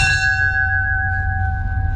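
A train bell at the Barstow train museum is struck twice in quick succession, loud and close, its bright metallic ring sustaining and slowly fading alone.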